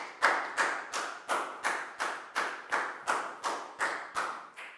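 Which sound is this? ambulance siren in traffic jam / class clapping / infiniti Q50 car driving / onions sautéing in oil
class clapping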